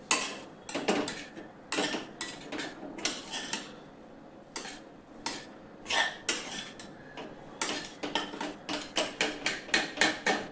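Cooked potato and vegetables being mashed in a pan for a sandwich filling, a run of sharp, repeated metallic knocks of a masher hitting the pan in uneven bursts, close and fairly loud.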